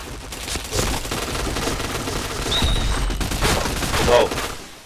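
Rapid bursts of gunfire from a shooting video game crackle steadily across the clip, dense and continuous, with a brief voice and small electronic tones surfacing near the end.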